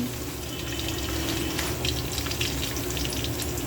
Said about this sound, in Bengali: তারপর দিলাম সজনে ডাঁটা, খুব ভালো করে ভাজতে থাকবো।